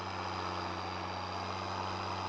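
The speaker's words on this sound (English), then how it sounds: "this tractor sounds really loud inside the cab" A steady, loud tractor engine drone in Farming Simulator 19, with a deep hum and constant tone, heard from inside the cab, unbroken and without voices.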